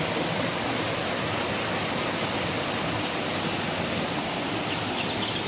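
Water rushing down a mountain stream near Srikalahasti, a dense, steady broadband roar with no pauses, loud and close, no voices.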